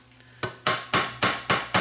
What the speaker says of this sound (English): So let's just tap around on the board.